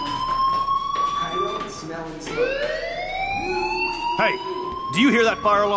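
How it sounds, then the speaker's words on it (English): In the video game Life is Strange, a fire alarm wails with a rising electronic sweep that plays continuously beneath a person talking. "do you hear that fire alarm?"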